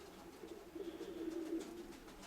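A pigeon coos close by, one low soft rolling call lasting around a second, heard alone against quiet background.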